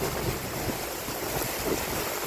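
Heavy rain in Pune makes a loud, steady broadband roar close to the microphone, continuous like rushing water and unbroken by talk.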